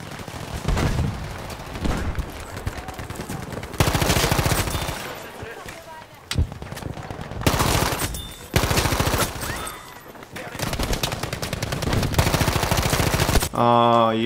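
A stationary machine gun in Battlefield 5 on the Solomon Islands map fires in long, loud rapid bursts separated by short pauses, with other gunfire and occasional talk mixed in.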